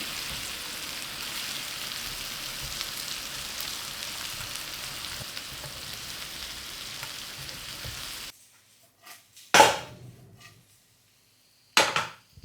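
Sliced onions frying in hot oil in a pan with turmeric make a steady soft sizzle for several seconds, then cut to near silence broken by a few sharp scraping clatters.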